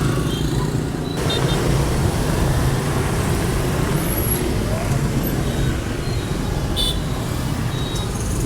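Road traffic in Vietnam, a loud continuous rumble of passing cars, buses and trucks with engine drone and occasional higher whines, steady throughout.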